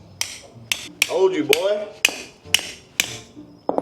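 A hammer strikes a welded metal piece to try to break it apart, eight or so sharp ringing blows at an uneven pace, close and loud, with someone speaking briefly between strikes.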